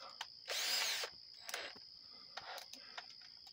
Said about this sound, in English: you drill out where the primer was till it goes all the way through into the 223